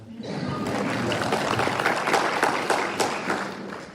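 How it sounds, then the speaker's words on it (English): Audience clapping at a school board candidate forum greets a board member in the room, a fairly even wash of applause that rises in and holds for several seconds at moderate loudness. "Feel free to clap for him."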